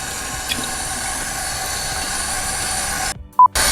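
Cold tap water running steadily from a kitchen faucet while skin is rubbed off cooked food, a continuous loud hiss that cuts off abruptly near the end with a brief clunk.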